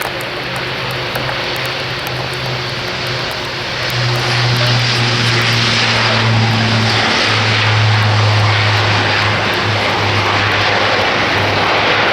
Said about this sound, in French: Il est en attente de ce décollage de l'Airbus A400M.